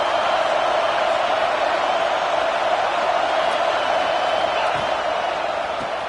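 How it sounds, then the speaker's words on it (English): A college football stadium crowd roars in support of the home defense, a dense, sustained wall of cheering and noise at constant loudness from start to finish. "this crowd getting behind its defense"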